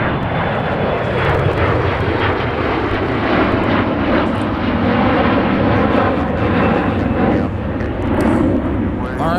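An Aer Lingus airliner taking off from runway 30 left at Minneapolis–Saint Paul airport, its engines giving a loud, continuous roar that holds steady and fills the whole stretch.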